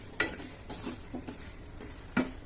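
Boondi being stirred in sugar syrup over a low flame, a few sticky scraping strokes against the pan with soft clicks between them, close and fairly quiet, with no speech.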